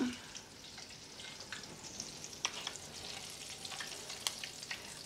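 French toast sizzles and crackles in a pan of butter and oil, a steady close frying hiss dotted with small pops and scraping stirs, with no one talking.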